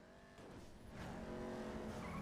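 A car driving in the video game GTA V, a steady engine drone with rising tire squeal, loud and continuous for a couple of seconds.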